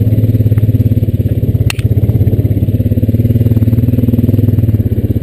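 Honda Rancher 420AT ATV engine chugging steadily over a rocky trail with naturally occurring stones like cobblestone, a loud continuous motor with rattling clatter and a brief sharp knock midway.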